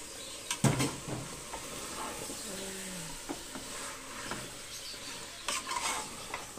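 Potatoes go into a pan of sizzling beef rendang and get stirred, with a soft, steady fry hiss, a clatter as the potatoes drop in early on, and scattered scraping and utensil knocks against the pan.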